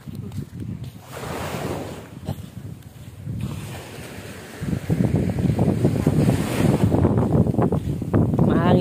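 Sea waves roll onto a beach at Bonuan, Dagupan, Pangasinan, a steady wash of surf that builds and grows louder toward the end, mixed with wind buffeting the microphone.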